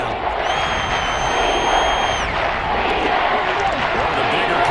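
Steady roar of a football stadium crowd building before a big third down, a broad continuous wash of cheering and noise with a thin whistle-like tone early on.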